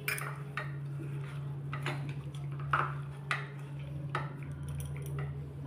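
Soft squishing and clinking as chicken pakora ingredients are mixed by hand in a bowl, with occasional taps against the bowl over a steady low hum, close and quiet.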